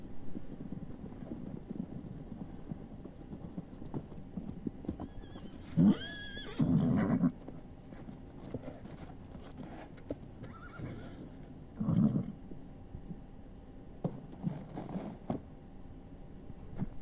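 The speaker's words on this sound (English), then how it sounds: "Horses, I hear them." Horses in the Western video game A Western Drama whinny in short, separated bursts, some close and some farther off, over a faint bed of wind and low rumble.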